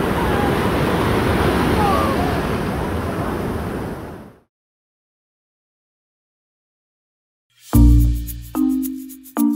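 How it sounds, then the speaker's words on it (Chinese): Sea waves wash steadily onto a beach at night, a broad continuous surf roar for about four seconds that then cuts to silence before a voice briefly speaks. "夜晚的海边十分宁静，海浪的声音很好听。"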